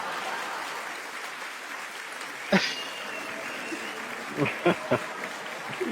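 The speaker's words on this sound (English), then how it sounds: "The applause again." Applause from a live studio audience welcoming a new team member, a steady diffuse patter of clapping with a few louder sharp claps near the end.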